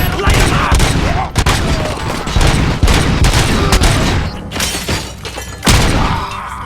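Enemy gunfire in Robocop: Rogue City, loud sustained bursts of automatic fire with sharp cracks, shattering debris and impacts, several brief pauses between volleys; voices shout faintly underneath.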